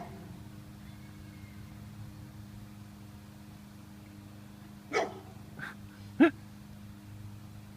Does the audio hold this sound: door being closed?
no